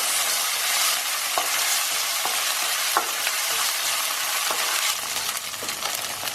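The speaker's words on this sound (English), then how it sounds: "We're going to add our ginger and garlic paste and give that a mix." Onions sizzle in a pan with ginger garlic paste while a spoon stirs, giving a constant close hiss dotted with light scraping clicks and taps.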